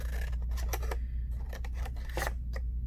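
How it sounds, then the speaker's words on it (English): Scissors cutting out a construction paper flower around its petals, a rapid series of close, crisp snips and paper rustles with no talking. "I'm going to finish cutting this out so you can see"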